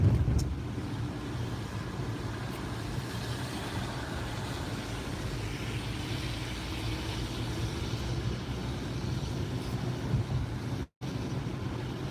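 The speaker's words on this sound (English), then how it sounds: "This white car here is a Lyft driver." A white car passes on a slick, wet road at night, heard as a steady, moderately loud hiss and rumble of tires and engine throughout, with no talking.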